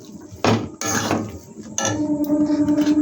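Spices, chili powder and turmeric, being stirred and fried in a pan, with metal spatula scrapes and clinks against the pan in a few uneven strokes over a steady sizzle.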